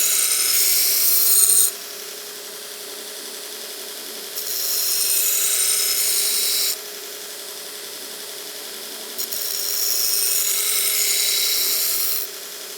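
A belt grinder works a railroad spike knife blade, making a steady motor drone with bright, hissing grinding bursts of a few seconds each as the blade is pressed to the belt and lifted off again.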